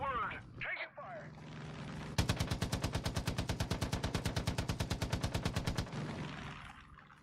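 Sustained automatic gunfire in Far Cry 5 rips out in a rapid, even burst of roughly three dozen loud shots lasting several seconds, with a voice and other game sounds just before it.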